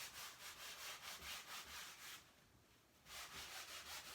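A cloth rubbing oil paint off a canvas to leave a stain, making a faint, rhythmic scrubbing swish in repeated back-and-forth strokes with a short pause in the middle.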